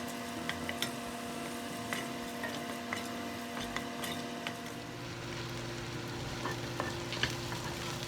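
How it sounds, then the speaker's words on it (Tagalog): Onion sizzles in vegetable oil in a pan while cooking beef and broccoli, a steady close crackle with scattered pops and a low background hum throughout. "Add the remaining 1 tablespoon of vegetable oil. And then cook your onion."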